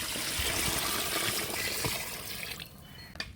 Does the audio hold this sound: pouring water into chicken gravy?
yes